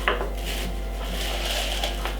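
A spoon scrapes soft avocado flesh from its skin for a morning banana smoothie, a short, close, quiet rasping with a couple of sharper scrapes.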